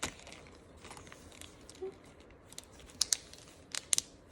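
Stretchy slime pulled apart quickly, giving faint sticky crackles and a few sharp snapping pops near the end, close and quiet.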